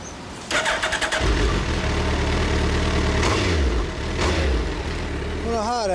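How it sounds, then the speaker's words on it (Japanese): A stock Suzuki GSX1300R Hayabusa motorcycle cranks and fires up, then settles into a loud, close running rumble with a few blips of the throttle while people talk nearby. "エンジン音聞かせてもらえる？"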